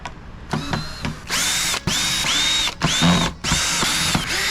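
A power drill unscrewing the screws from a failed Klipsch ProMedia THX 2.1 computer speaker, several loud close bursts of whirring motor whine separated by short pauses and faint clicks, with no talk.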